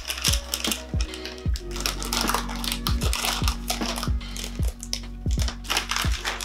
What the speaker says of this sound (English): I'm gonna open this one